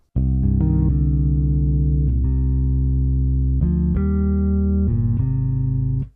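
A clean, dry bass guitar line plays alone, sustained low notes changing every second or so, with no reverb tail and no talking.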